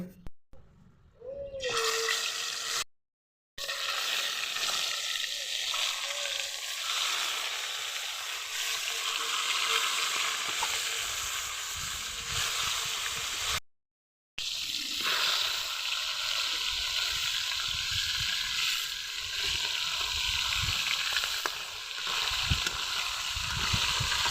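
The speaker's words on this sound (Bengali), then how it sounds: "কড়াইতে তেল দিয়ে ভালো করে মাছটা ভেজে নেব" Fish coated in turmeric and salt frying in hot oil in a wok, a loud continuous sizzle and crackle that runs on with brief breaks and occasional stirring noises.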